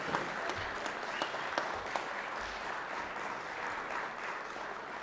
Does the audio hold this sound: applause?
yes